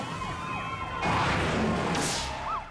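Police sirens wail and warble in the distance, rising and falling over a broad rush of traffic noise during a police chase in the high desert of Lancaster, California.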